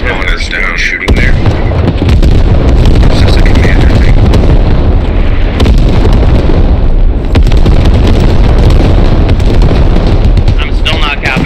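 Heavy air strike explosions rumble and burst in the military shooter game Squad, a loud, dense barrage of booms and crackling blasts filling the whole stretch, with voices talking over the din.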